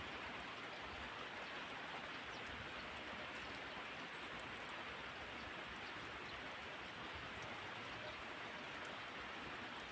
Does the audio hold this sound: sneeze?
no